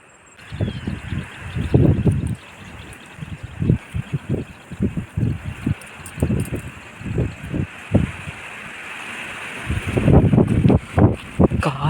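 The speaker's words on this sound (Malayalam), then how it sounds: "കാറ്റെന്ന് പറഞ്ഞാൽ കാറ്റ്" Wind blowing outdoors on an evening stroll, a steady rush with wind buffeting the microphone in loud gusts throughout, strongest near the start and end.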